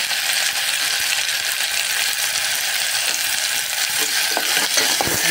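Chopped tomatoes sauté in a hot pan for Karnataka-style sambar, giving a steady close sizzle, with a few sharp clicks of stirring near the end.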